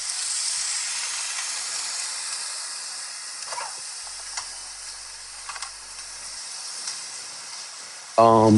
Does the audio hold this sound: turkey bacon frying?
yes